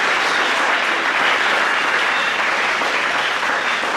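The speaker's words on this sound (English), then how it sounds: "So if you could give them and yourself a round of applause." A loud, sustained round of audience applause at a 2016 EKA senior presentation, with dense clapping from many hands that stays full and even for several seconds.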